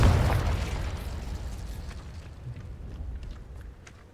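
Confringo fire spell in Hogwarts Legacy erupts in a loud, close blast at the start, then rumbles and crackles as it slowly decays over several seconds.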